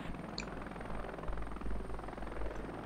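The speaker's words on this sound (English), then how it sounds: "I've got my original helicopter back." An attack helicopter in the video game Heliborne flies with a steady, loud rotor thump and engine drone, continuous and close throughout, with no voices.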